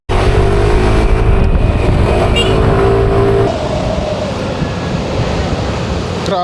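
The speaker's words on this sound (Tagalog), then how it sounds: "Habang tumataas yung RPM niya, mas pumipino yung takbo." A Yamaha Lexi scooter roars loudly while riding, its engine buzz heavy with wind rush, dropping to a lower, rougher drone about halfway through; no one speaks.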